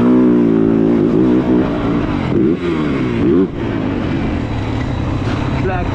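A 2025 Yamaha YZ450F GYTR motocross bike on a track at the Yamaha MX Pro Tour, its engine revving loud and close in rising and falling bursts while someone talks over it.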